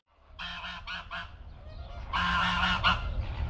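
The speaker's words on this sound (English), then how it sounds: "They got ducks here" Honking waterfowl call outdoors in Baghdad, Iraq, in a series of loud, nasal honks that come in clustered bursts, with a stronger run of overlapping calls in the second half and no talking.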